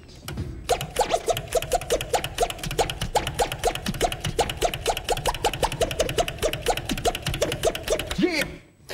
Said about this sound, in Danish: det er lidt hurtig scratch på den opadgående fader.